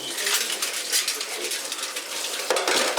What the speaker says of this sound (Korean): 설거지 하는 거예요?